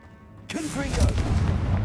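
A Confringo blasting spell in Hogwarts Legacy erupts in a sudden loud boom after a quiet moment, then rumbles on with crackling blast noise and some voice-like tones.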